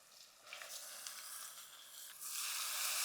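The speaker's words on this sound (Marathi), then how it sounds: "आता यामध्ये घालूया मशरूम्स" Mushrooms tossed into a hot frying pan with fried onions set off a continuous hissing sizzle that grows louder and brighter near the end, close by with no talking.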